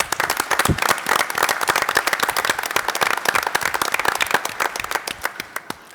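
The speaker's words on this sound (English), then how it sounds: "So one more big round of applause for all of our nominees." A large audience at a school board of education meeting claps in a long, dense round of applause for award nominees, sharp overlapping claps filling the room steadily and then thinning slightly toward the end.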